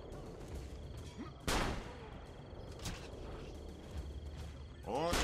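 Sharp, loud pistol gunshots crack over a noisy Assassin's Creed Brotherhood game soundscape, a couple of distinct shots a second or so apart amid background rumble.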